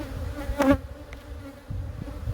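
Honey bees hum steadily at an open hive during a brood inspection, with one closer, louder buzz swelling briefly before the drone settles back to a low, continuous murmur.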